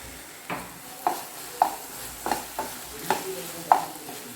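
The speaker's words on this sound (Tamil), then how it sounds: "இப்போ நம்ம இதில் அரைச்சி வச்சு தேங்காய் போட்டுக்கலாம்." A spoon scrapes and stirs ground coconut into a drumstick pulp stir fry in a pan, giving about eight separate close strokes over a faint steady sizzle, with no talking.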